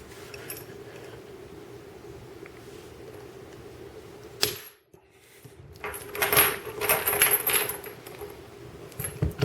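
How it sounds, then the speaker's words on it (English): A bolt cutter, pressed down with body weight on the floor, snaps through stainless steel chain with one sharp metallic crack, followed by metallic jangling and clinking of chain links. "I'm going to make her a collar out of stainless steel chain. I'm going to cut it with this bolt cutter here."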